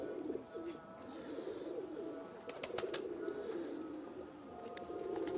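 Pakistani and Rajshahi Giribaz pigeons in a loft coo softly in low, rolling phrases, with faint chirps and a few sharp clicks over a quiet background.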